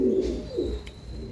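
Lal gajre pigeons of the Tenali breed from Andhra Pradesh give a short low coo close by, then a second softer rolling call, with faint background noise.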